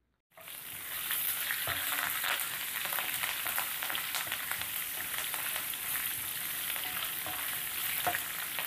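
Dried red chilli pieces, green chillies, asafoetida and curry leaves hit hot oil in a tempering for rice, bursting into a loud, close, continuous sizzle with crackles and stirring scrapes, no voices.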